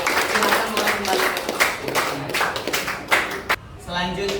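Classroom applause for a second student group, a burst of scattered hand claps from a group of people, fairly close and ending abruptly, with some voices mixed in.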